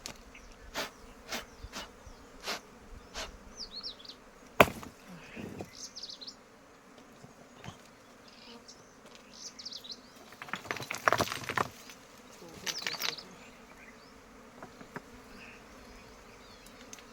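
Honey bees buzzing around a stone crevice during a colony capture, thin intermittent buzzes and sharp close passes over a quiet outdoor background, with faint bird chirps.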